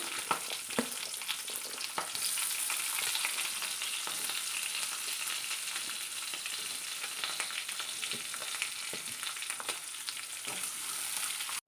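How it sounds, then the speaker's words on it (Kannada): Onions frying in oil with mustard seeds and curry leaves for a village-style ridge gourd bassaru, a steady close sizzle with faint crackles and occasional stirring scrapes, no talking. "ಚೆನ್ನಾಗಿ ಫ್ರೈ ಮಾಡ್ಕೊಳ್ಳೋಣ ಈರುಳ್ಳಿ ಕಲರ್ ಚೇಂಜ್ ಆಗಿದೆ"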